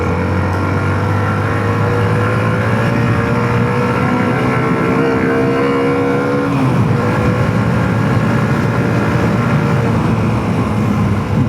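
A Hero Xtreme 125R motorcycle engine drones loudly and steadily while riding, its pitch climbing then dropping as it shifts, with constant wind and road noise.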